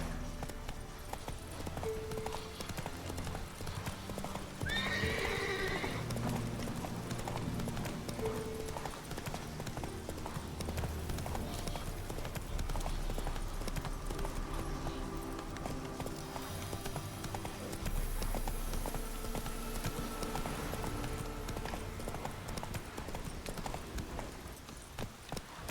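Horse hooves clip-clopping at a steady gallop in The Witcher 3 video game, a continuous rhythmic pounding under game music and ambience, with a brief rider's call.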